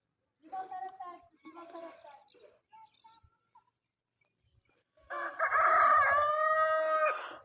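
Village roosters crow. Shorter, broken calls come first, followed by a long, loud, close cock-a-doodle-doo that carries through the final seconds, with a few quiet gaps between the calls.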